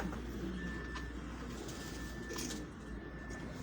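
Pigeons coo softly at a house, low murmuring calls repeating under a steady background hum, without any talking.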